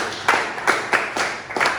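Classroom students at a junior high school clap for their classmates in five short, crisp bursts spaced roughly evenly apart, fairly close and distinct against a quiet room.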